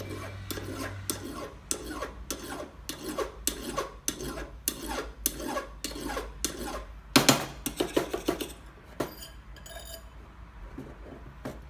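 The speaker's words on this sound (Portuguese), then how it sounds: "Vou remover o excesso com o auxílio dessa lima" A hand file rasps excess solder off a 925 silver ring in a row of regular back-and-forth strokes, close and crisp, then a few quicker, louder scrapes before tapering into quieter scratches near the end.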